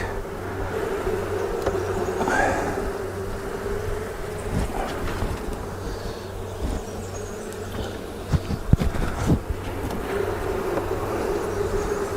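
Honey bees and drone-laying workers crawl on a hive, giving a steady low hum and buzz that lasts throughout, with faint handling knocks near the end and no talk.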